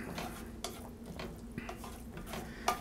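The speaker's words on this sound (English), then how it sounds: "And I'm gonna stir this up." A spoon stirring a pesto dish in a pan, soft scraping swishes with a few light clinks against the metal, faint and close, over a low sizzle.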